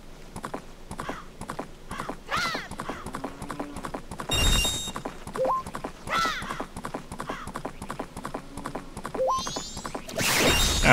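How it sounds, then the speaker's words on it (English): Horse hooves clip-clopping in a steady rhythm as Link rides in The Legend of Zelda: Majora's Mask, with chiming game effects, a whinny and a sharp burst of noise, under occasional faint talk. "Get on the horse, Link."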